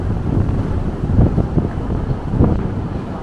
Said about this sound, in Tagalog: Ipapakita ko sa inyo yung lakas ng hangin